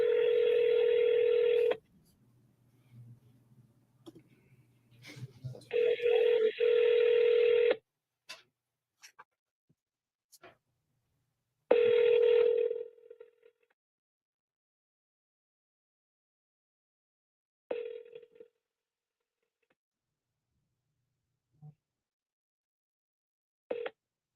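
A phone call being placed: bursts of touch-tone dialing beeps, then repeated ringback tones spaced several seconds apart, clear and close with no speech over them.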